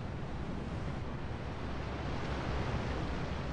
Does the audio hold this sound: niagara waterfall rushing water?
yes